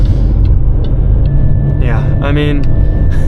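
An older Range Rover's engine idles smoothly and quietly, a steady low rumble running throughout, with a person speaking briefly over it.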